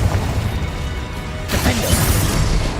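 A Confringo blast spell goes off in Hogwarts Legacy, a loud crashing burst that swells after a steady rumble of game sound, brief and close, with no talking.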